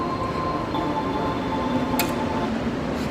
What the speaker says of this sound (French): Il y a mon métro peut-être.